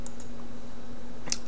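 Brief computer keyboard typing in a quiet room: a few light, scattered key clicks over a steady low hum, with one sharper click near the end.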